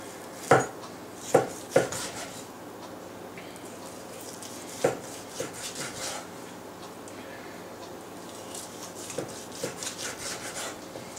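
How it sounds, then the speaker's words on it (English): A knife cutting up food on a board in a home kitchen while a St. Patrick's Day meal is prepared: a few sharp knocks early on, then softer intermittent scraping and chopping, close and quiet. "I'm just going to finish cutting this up"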